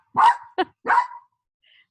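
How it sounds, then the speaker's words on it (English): A dog barks loudly and close at a delivery: two sharp barks, a short yip, a third bark, then quiet. "apparently I'm getting a delivery, which means the dog's going to be very loud for a second"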